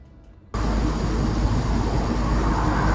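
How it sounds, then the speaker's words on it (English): A car passes outdoors, picked up by a street camera: a loud, steady broadband rush of road and engine noise that kicks in abruptly after a brief quiet moment and holds to the end. "But you can hear the car,"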